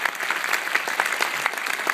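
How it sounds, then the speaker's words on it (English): A crowd at a film Q&A applauds a producer being brought onstage, dense steady clapping from many hands filling the whole stretch without any voices. "Give a big round of applause to Jacob Jassy."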